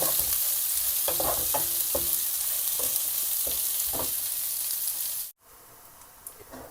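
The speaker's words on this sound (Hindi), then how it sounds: "प्याज को हम हल्का ब्राउन कर लेंगे" Onions fry in a pan for chicken haleem with a strong, steady sizzle and regular stirring scrapes. Near the end the sound cuts out briefly, then comes back quieter.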